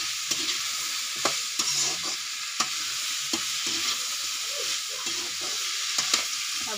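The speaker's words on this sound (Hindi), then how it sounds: "तो अब इसमें हम डालेंगे सब्जी, हम तीनों को साथ में एक ही साथ डाल देते हैं।" Onions and peas sizzle and hiss steadily in a pan for Indian matar sabzi, while a spoon scrapes and stirs with sharp intermittent clacks against the pan. The cooking is fairly close and nobody speaks.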